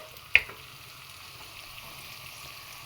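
Tomatoes and spice powder sauté in hot oil for a chicken curry, giving a soft, steady sizzle close by, with one brief clink of a utensil near the start.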